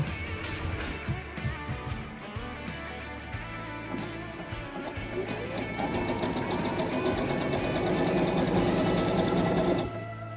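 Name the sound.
sewing machine stitching camper cushion covers made from sheets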